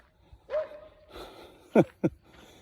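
A dog outdoors gives a whimpering yip and then two short loud barks close by, with nobody talking.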